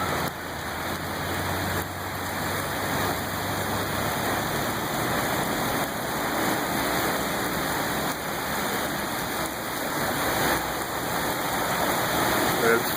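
Rain and floodwater flowing during a July 2014 flood: a steady, close, broadband rush of water that continues unbroken, with a faint low engine hum beneath it.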